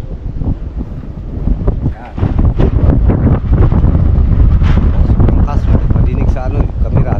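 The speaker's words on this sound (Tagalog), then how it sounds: "Sobrang lakas ng hangin." Strong wind buffets the microphone in loud, continuous gusts, rumbling heavily throughout with no pauses.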